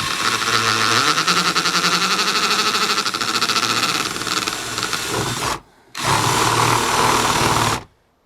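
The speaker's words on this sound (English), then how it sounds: "we've got the drill on hammer action" A hammer drill in hammer-action mode drills a hole for a water butt pipe, running loud and steady with a rattling buzz, stops briefly, then starts again for a few more seconds before cutting off.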